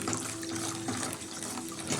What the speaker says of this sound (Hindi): इसमें हल्का सा पानी और डाल देते हैं